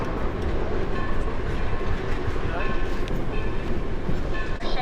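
Yosemite Mountain Sugar Pine Railroad Shay locomotive train running in a California forest, a loud continuous rumbling clatter of wheels and machinery that holds steady throughout.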